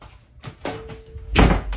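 A house door bangs shut loudly near the end, after a few softer knocks and shuffles, close by and with no speech over it.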